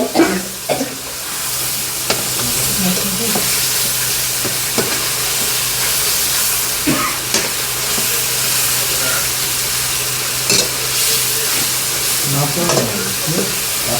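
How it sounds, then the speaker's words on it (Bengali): Fried chicken sautéed in gravy for biryani, a loud constant sizzle with repeated scraping stirs and occasional clanks of the ladle against the pot, a little faint background talk. "চিকেনটাকে এখন ইয়াসিন ভালো করে কষে ফেলছে।"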